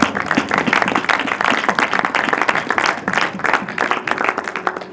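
A church congregation applauds loudly and continuously, with dense rhythmic clapping and faint voices mixed in throughout.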